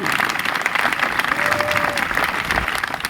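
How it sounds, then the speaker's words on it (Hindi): An audience claps briskly and continuously after a storytelling session, a dense, even patter with faint voices underneath. "ताली बजाइए तेजी से"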